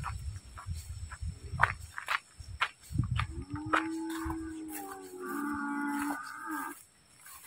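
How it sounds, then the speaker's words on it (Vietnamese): Cattle at a bull-breeding farm in Phước Lộc moo nearby, with one long low bellow and a higher drawn-out call, amid shuffling hooves, footsteps and crickets in the background. "Mình làm quay mấy con bò đây"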